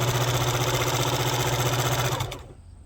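A Singer 4452 heavy-duty sewing machine runs dry with no thread or bobbin thread, giving a steady loud motor whir and rapid mechanical hum that stops abruptly near the end, leaving quiet.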